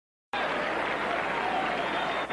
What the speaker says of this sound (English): Crowd is applauding as Vitas Gerulaitis comes out to assume his position here in the second set